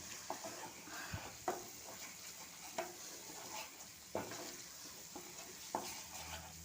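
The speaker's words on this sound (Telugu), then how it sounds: "మసాలా బాగా ఫ్రై అవ్వాలి" Masala fries in a pan for egg curry with a faint, soft sizzle, while a spoon stirs and taps the pan now and then, close but quiet.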